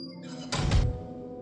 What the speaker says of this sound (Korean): 그 순간 컨테이너 문이 쾅 하고 세게 닫혀버렸고